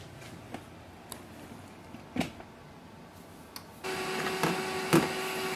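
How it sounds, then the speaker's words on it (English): An HP LaserJet M208dw printer restarting, with scattered clicks and ticks, then a steady whirring mechanical hum starting partway through and running to the end alongside a sharp click, close and moderately loud. "Now wait for the printer to restart."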